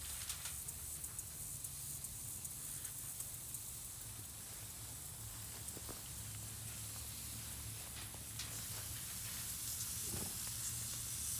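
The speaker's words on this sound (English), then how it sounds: "I don't know if you heard that nice sizzle" Meat strips sizzle on a hot Billy Bob grill outdoors, a steady dense hiss with faint pops and crackles, continuous and close with no talking.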